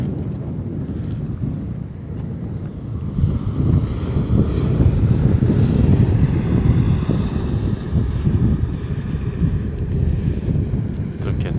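Strong desert wind in the Sahara buffets the microphone with a continuous low roar and rumble, steady and loud throughout with no clear voices.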